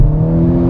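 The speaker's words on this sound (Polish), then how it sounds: "Nie, no, dźwięk silnika, a to było dopiero, wiesz, tam 5-6 tysięcy obrotów, nie?" A Ferrari engine holds a steady, deep, loud rev around mid-range, a dense low rumble with a strong tonal hum and no break.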